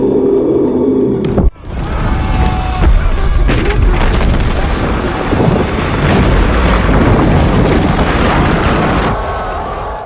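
A huge explosion blasting apart a mountain, erupting after a brief quieter moment into a loud, sustained roaring rumble with wind-like turbulence that rolls on for several seconds before easing slightly.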